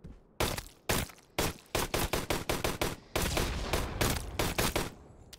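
Rapid bursts of gunfire in the video game S.E.C.U, sharp cracks in quick irregular volleys, some spaced shots then denser strings, loud and close with no talk.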